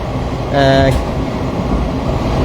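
Passenger train running on the line near Bardhaman, heard from on board as a steady loud rumble and rattle, with a short tonal squeal or horn-like sound and a brief voice over it.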